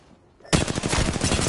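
A sudden burst of rapid automatic gunfire in a multiplayer shooter video game, loud and continuous after a brief quiet lead-in.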